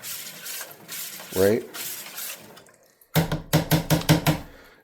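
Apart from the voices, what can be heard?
stirring hydroponic nutrient solution with slotted metal spoon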